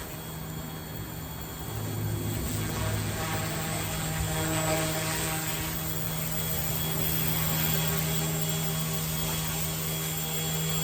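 A Carmanon OH-58 model helicopter flies steadily on a wet day, its rotor and motor making a loud, constant whirring buzz with a steady tonal hum that rises slightly after the first couple of seconds.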